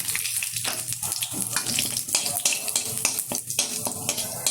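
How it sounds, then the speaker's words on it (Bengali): Bay leaves and whole cumin seeds fry in hot oil in a kadai, giving a dense crackling sizzle with scattered sharp pops and bursts throughout, loud and close with no talking. "তেলের মধ্যে দিয়ে দিচ্ছি কয়েকটা তেজপাতা আর কিছুটা গোটা জিরে"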